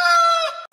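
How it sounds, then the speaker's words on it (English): A chicken clucking loudly and close, one short drawn-out call that ends abruptly, with no talking. "Chicken versus alligator."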